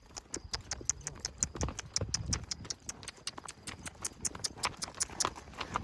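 Horse hooves clip-clop steadily on a highland pasture, a brisk regular rhythm of crisp hoof strikes moving at a trot, moderately close, with no talk over it.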